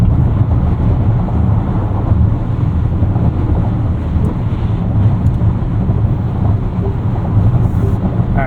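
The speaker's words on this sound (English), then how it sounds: "We are on concrete, which is typically louder." Road noise fills the cabin of a 2024 Lincoln Nautilus Black Label driving on concrete, a dense steady roar and rumble with a wind-like hiss, continuous and fairly loud, with no talk.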